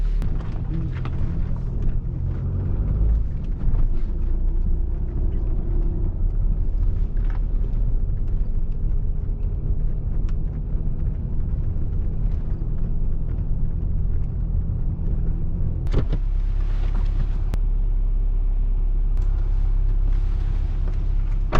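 A vehicle drives along a road in the evening, with a steady low engine and road rumble throughout and a brief jolt about three-quarters of the way through.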